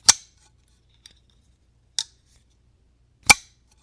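A folding knife flicked open, its detent breaking with sharp crisp snaps held close to the microphone, three distinct cracks plus a faint click in near silence.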